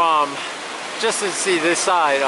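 Creek water rushing steadily in the Sierra Nevada along a trail, a loud continuous broadband wash heard up close, with a voice talking over it in the middle and at the end.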